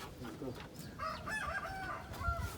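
Chickens in a backyard coop, with a rooster crowing and hens clucking close by, while voices talk faintly in the background.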